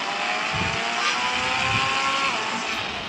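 A car drifts with a steady, loud engine roar and broad tire noise sustained for the whole few seconds, close by, without talking.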